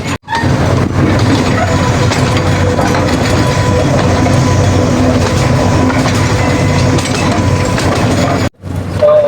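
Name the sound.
toy train ride at Bal Bhavan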